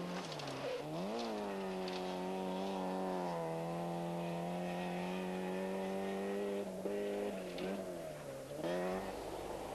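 Rally car at full effort on a special stage of the 1993 Hotelli Kauppi-Ralli near Tampere, Finland, its engine holding a loud, steady high-revving drone with brief dips at gear changes and lifts, close and alone.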